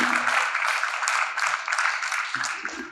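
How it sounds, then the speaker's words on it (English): A university panel audience claps for the speakers, a dense burst of applause filling the short stretch at steady volume before tapering slightly. "Please give a big round of applause to the panel speakers."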